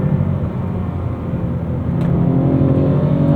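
A BMW M2 Competition engine drones steadily from inside the cabin, rising slightly in a low rumble as the throttle is pressed, with no talk.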